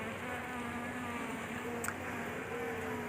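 Bees hum in a steady, soft drone around a beekeeping box outdoors, a continuous close buzz with faint passing whines and no talk.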